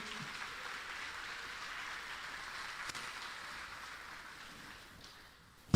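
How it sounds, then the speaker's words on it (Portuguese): A church congregation applauds during an evangelical sermon, a steady, soft wash of clapping that sounds distant and fades out near the end. "Aplauda o Senhor Jesus."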